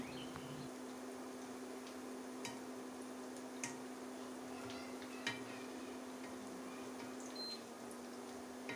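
Cabbage pakoras fry in a pan with a soft, constant sizzle, while a few faint clicks and ticks from turning them sit over a steady low hum.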